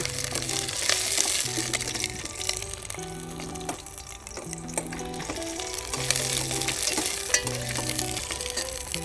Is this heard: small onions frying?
yes